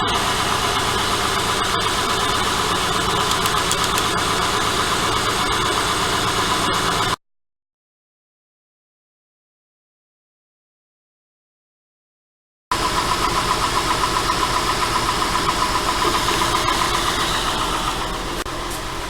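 Car engine idling steadily at the bench with a leaking, torched-out spark plug thread in the cylinder head, a loud continuous close-up rumble and vibration that cuts out completely for several seconds before resuming.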